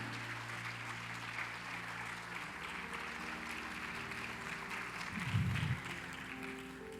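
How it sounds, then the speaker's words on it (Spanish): Congregation applause at an evening church service, a soft, distant wash of clapping under low hum and steady background tones, with a brief louder burst near the end. "Dar un aplauso fuerte al Señor."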